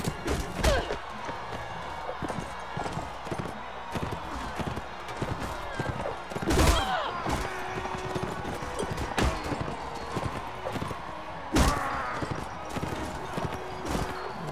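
Horse hooves clip-clop in a Mount & Blade Warband tournament, a rapid rhythmic gallop with occasional heavy thuds and impacts cutting through the game's busy combat noise.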